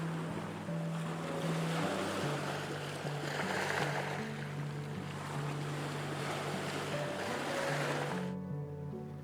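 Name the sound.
ocean waves crashing on a volcanic black sand beach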